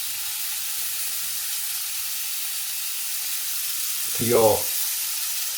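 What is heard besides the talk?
marinated Moroccan lamb steaks frying in a pan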